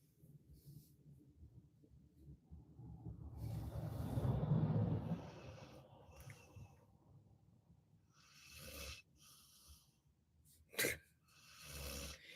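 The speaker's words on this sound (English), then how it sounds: "You guys are gonna hear my dog snore." A dog snores softly nearby in slow, rumbling breaths that build to a louder snort, with scattered small noises in a quiet room.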